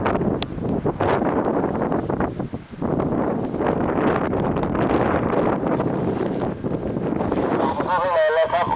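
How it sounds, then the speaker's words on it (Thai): Strong wind buffets the microphone outdoors near a lake on a hillside trail with small trees, a loud continuous rushing roar with gusty surges and a brief lull. "ค่อนข้างจะมีลมแรง"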